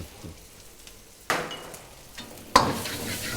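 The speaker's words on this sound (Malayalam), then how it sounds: "ഇത് മസാല ഒന്ന് പിടിക്കാൻ വേണ്ടിയിട്ട് ഒന്ന് ഫ്രൈ ചെയ്യും" Vegetables frying in masala for a vegetable curry with meat masala added, sizzling in a pan with two sharp bursts as ingredients hit the hot oil, then a steady crackle close by.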